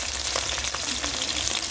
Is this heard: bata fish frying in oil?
yes